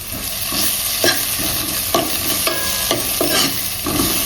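Onions sizzle in hot oil in a kadai while a spoon scrapes and stirs in repeated strokes, close and loud, with no voices.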